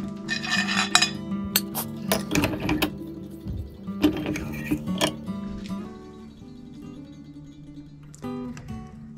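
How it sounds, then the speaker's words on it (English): Small metallic clinks and ticks of screws being backed out of a Heritage Rough Rider revolver with a misfire problem, close and fairly dense at first, then thinning to a few scattered taps over a steady hum. "Just pull these screws out."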